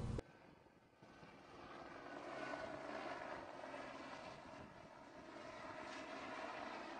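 A helicopter flying a survey grid about 100 feet above the ground, towing a sensor, makes a steady distant rotor and engine drone that holds at a fairly low level throughout the clip.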